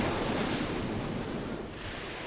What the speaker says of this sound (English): he can be escorted to shore away from the crashing waves